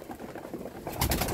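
Racing pigeons coo softly near the feeding tins in a loft, low throaty calls rising to a louder cluster of coos toward the end, close by and without talk.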